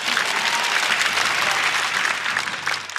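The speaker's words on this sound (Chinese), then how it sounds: "让我们掌声欢迎鸡翅。" An audience at a stand-up comedy show bursts into loud, sustained applause, dense clapping filling the room for three seconds before starting to taper.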